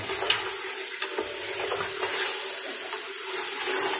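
Kabuli pulao stirred with a wooden spatula in a hot pot, a bright continuous sizzle with soft irregular scraping and tapping of wood against metal.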